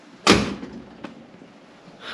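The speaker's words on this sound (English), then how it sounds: "it actually opens and closes pretty easy." A Ford Bronco door being shut on a truck under restoration, one sharp loud thump followed by a fainter click and low shop background noise.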